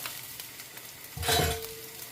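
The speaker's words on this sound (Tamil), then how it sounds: "இப்போ நாங்கள் இந்த சோயா மீட்டை இதில் போட்டுக்கொள்ளுவோம்" Soya meat is tipped into a pan of golden fried onions, and a short burst of sizzling rises sharply and settles back to a quiet hiss.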